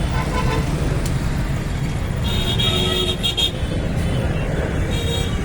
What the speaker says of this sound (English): This is the Malot Chowk, Abohar, and traffic jam is a big problem here.